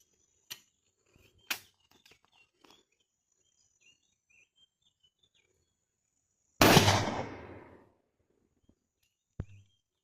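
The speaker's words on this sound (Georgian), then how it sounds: "პირველი გასროლა არის I-58-დან." A single loud IZh-58 shotgun blast firing a 34 g No. 4 cartridge with full choke outdoors, sharp report followed by a long decaying echo, preceded by a few faint clicks and handling knocks, with a small thud afterward.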